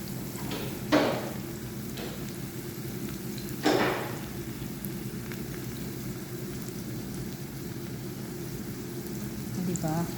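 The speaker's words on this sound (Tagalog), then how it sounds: "Prito na natin yung tuyo." Dried fish sizzles steadily in hot oil with a constant crackling hiss and occasional louder pops, heard close up with no speech.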